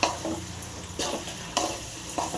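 Lemon pickle ingredients mixed together in a bowl: wet, squelching stirs and soft scrapes recur roughly every half second, close and moderately loud, with no voices.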